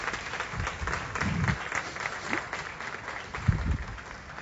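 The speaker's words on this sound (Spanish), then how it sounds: "Si lo va a aplaudir, apláudalo de verdad." Church congregation applauding during a sermon, moderate clapping under low murmuring voices and some background rumble, uneven in rhythm.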